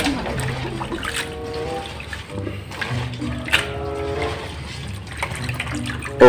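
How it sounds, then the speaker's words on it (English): Water trickles and pours into a plastic basin, called a palangana, to rinse aballeng for an Ilocano dish, with uneven splashing and dribbling up close and some faint talk mixed in. "let's put it again inside our palangana and put another water and wash it again"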